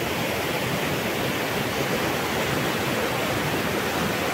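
A small river flows steadily, a continuous broadband rush of water that stays loud and even throughout, with no voices.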